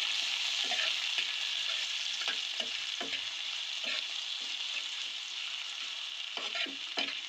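Chopped ginger stir-fried in a hot pan, a constant bright sizzle broken by a series of distinct spatula scrapes and taps, close up and alone.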